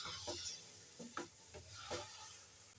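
A spoon stirs spiced olive pickle cooking in a pan on the stove as the liquid reduces, giving several soft scraping strokes over a low, steady sizzle, close and fairly quiet with no voices.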